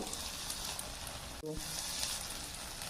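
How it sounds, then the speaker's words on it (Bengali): Spice paste for a Bengali pabda fish curry sizzling steadily in hot oil, a bright continuous frying hiss with a brief stir-like break midway. "পুরো এগারো মিনিট ধরে এটা আমি কষবো তবে মশলাটা যত কষবো তত মাছ তরকারিটা খেতে দুর্দান্ত লাগবে"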